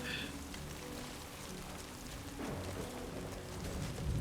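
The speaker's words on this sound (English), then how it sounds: "the rain's starting to get heavy" Soft, steady patter of rain in the video game Death Stranding 2, faint and continuous with no talking.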